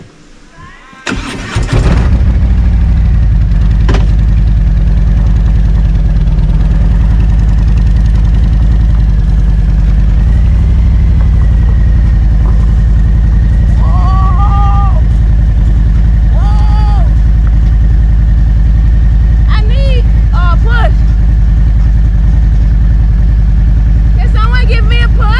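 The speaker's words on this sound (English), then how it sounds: "I'm gonna try to turn this bike around on this freaking hill" A Harley-Davidson Road Glide motorcycle engine starts up on a hill, then settles into a loud, deep, steady idle rumble throughout, with a voice talking over it now and then.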